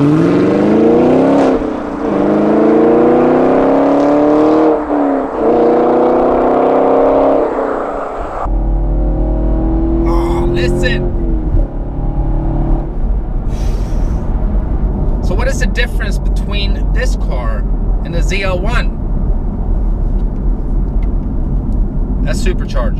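Chevrolet Camaro SS 1LE V8 revving loudly for several seconds with rising engine pitch, then settling into a steady idle rumble as someone talks over it.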